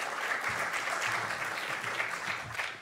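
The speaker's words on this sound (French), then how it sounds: "Vous pouvez l'applaudir." An audience at a conference talk on freelancing and digital work applauds a speaker with dense, continuous clapping that stays steady and fairly close throughout.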